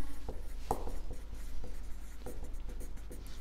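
Chalk or marker scratching out words on a board during a biology lesson, a series of short strokes and taps in an irregular rhythm, close and fairly loud, with no speech.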